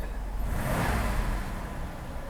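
A Mercedes W126 560SEC, freshly repaired after a faulty fuel distributor, runs close by with a steady, even engine drone that swells slightly as it revs before settling, with no voices over it.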